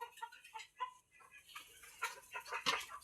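A hen sitting to lay eggs gives a run of soft, close clucks and murmurs, irregular and fairly quiet, ending with a couple of sharper calls.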